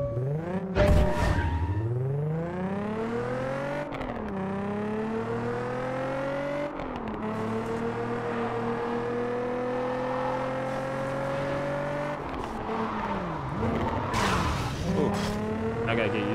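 A car in the Gear.Club Unlimited racing game, its engine revving up through repeated gear shifts with rising pitch sweeps, interrupted by tire squeals and skids, loud and continuous with occasional brief voice.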